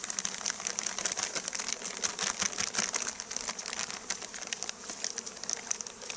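Honey bees at a beehive being smoked during February apiary work give a dense, continuous close-up buzz with flickering wingbeat texture and no talk.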